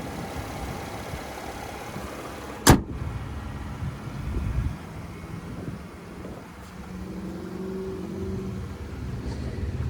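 The 3.6-liter V6 of a 2021 GMC Canyon Denali 4WD runs at a low, steady idle, with one sharp click or thump early on and a slight rise in engine rumble afterward.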